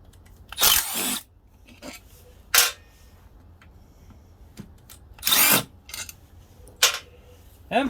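Short bursts from a Milwaukee M12 power drill spin up and stop several times in quick irregular bursts, close and fairly loud, with quiet pauses between.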